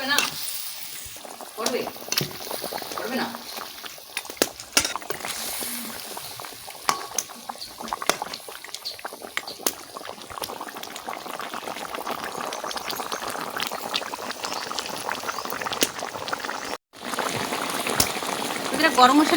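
Large rohu fish heads go into a pot of water at a rolling boil for a curry with unripe jackfruit. Steady bubbling and hissing carry on with scattered clicks and pops, and one brief near-silent drop near the end.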